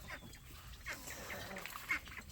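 Ducks giving faint, scattered quacks and honking calls outdoors, distant and low in level amid background noise.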